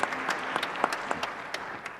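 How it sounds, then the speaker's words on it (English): Steady audience applause at a research workshop, dense clapping with a few louder individual claps standing out, sustained throughout. "Let's give them another round of applause to express our appreciation."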